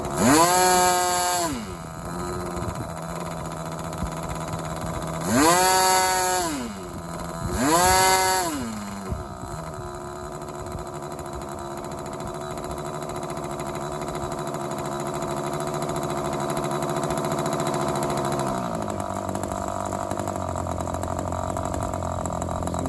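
A small model glow engine buzzes steadily, its pitch swooping up in a few brief revs before settling into a constant, fairly loud low idle.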